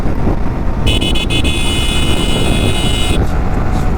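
A new motorcycle is ridden on the road with a steady rush of wind and engine noise, and a sustained horn-like tone sounds for about two seconds in the middle.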